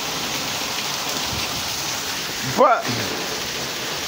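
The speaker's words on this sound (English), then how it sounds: "just want to give y'all a little hit of this rain here in Juarez, Mexico" Monsoon rain falling in Juarez, Mexico, a steady, even hiss filling the whole stretch, with a brief spoken word cutting in partway through.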